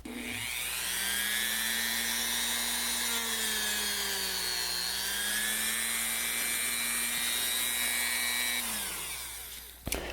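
Buffer wheel loaded with fine jeweler's rouge spinning on a low setting to polish Glock trigger parts, a steady whining hum that winds up, holds with slight pitch wavers, then spins down near the end.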